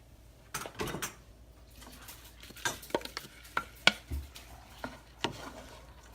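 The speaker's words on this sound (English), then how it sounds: "So now I'm just going to take this cauliflower that I riced and put it in with everything." Riced cauliflower tipped into a pan of melted butter and garlic over medium-high heat, giving a series of soft scrapes, clatters and stirring taps with a faint sizzle underneath, close by and with no talking.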